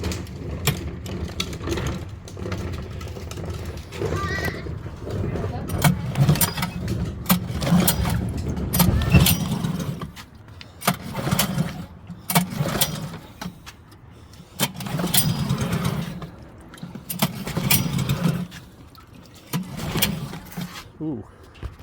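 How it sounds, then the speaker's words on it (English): A Honda 9.9 HP outboard boat motor starts and keeps running with a steady mechanical clatter. A person talks over the engine at times. "As soon as I fired it up, it's a little smoky because there's some grease and stuff in there, but immediately started spitting water."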